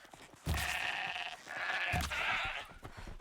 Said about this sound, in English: Ah, mountain goat, huh?